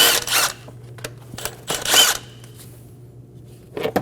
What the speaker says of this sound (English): Using a 10mm socket, remove the two nuts for the top cover.